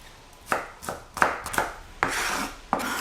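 Garlic chopped with a knife on a chopping board, about half a dozen sharp close thuds at an uneven pace, each with a brief scraping tail, with no talk.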